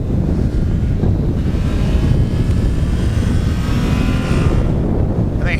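A 2009 Yamaha FZ6 Gen 2 motorcycle is ridden at speed, its engine drone buried in loud, constant wind roar buffeting the microphone throughout.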